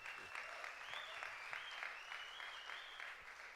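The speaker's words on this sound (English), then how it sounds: "can you please give Nick a round of applause as Executive Programmer?" Round of applause from a BIGSOUND 2014 conference audience welcoming a new executive programmer; steady, moderately distant clapping fills the whole stretch with a faint tonal hum running beneath it.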